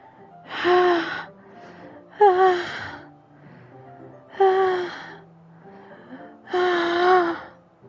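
Heavy, sharp breathing from the video game Doki Doki Literature Club: four loud gasping inhales at a steady rhythm, each about a second long, separated by quieter breathy pauses, close and without talk.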